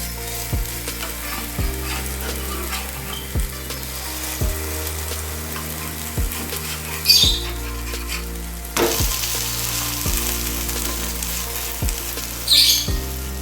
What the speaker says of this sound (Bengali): নিচের সাইডটা খুব ভালোভাবে ভেজে নিচ্ছি